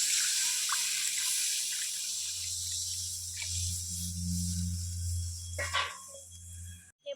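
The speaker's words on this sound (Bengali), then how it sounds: "এবার আমি ঝোলের জন্য জল দিয়ে দেবো।" Water poured into a pan of Bengali rui fish curry to make the gravy, a faint steady pour with a low simmering hiss running for several seconds, quiet and unaccompanied by talk.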